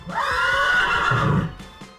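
One loud, nearby horse neigh, a quavering whinny lasting over a second before fading out with a soft breathy end.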